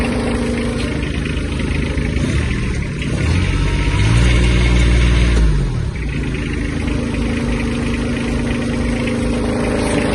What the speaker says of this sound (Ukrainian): Якщо піддати газу, оберти збільшуються.